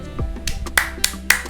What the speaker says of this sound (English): I clap for you, my brother.